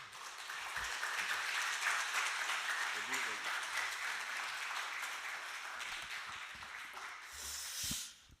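A congregation at a Korean church's Friday revival prayer service applauds loudly to welcome the pastor, a full round of clapping that swells early, holds, then thins before a brief voice and rustle at the end.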